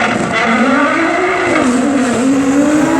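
Drag racing cars, a Subaru Impreza and a 3.8 litre GTR, launch hard at an airfield strip, with loud, sustained engine roar rising in pitch close by throughout.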